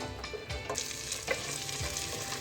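Masala mixed with curd for dhaba-style rajma roasts on a slow flame, a soft steady sizzle punctuated by several dull scraping stirs of a spoon against the pan.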